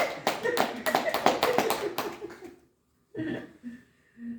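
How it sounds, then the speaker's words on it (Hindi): A small group claps in quick, close, uneven bursts for about two seconds before the applause fades out. After a brief silence, a voice talks. "सब मुस्कुराते थे तेरे लिए ताली बजा रहे हैं भाई"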